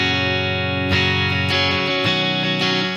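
An electric guitar played with a clean tone, no effects, through a Fender Deluxe vibrato amp head: a few sustained chords and single notes ring out clearly, each attack followed by a long decay, with no talking.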